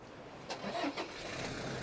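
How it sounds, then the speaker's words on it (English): A vehicle engine starts near a horse, catching with a short churn and settling into a steady idle hum, with no talk during it. "Jump in, start the engine"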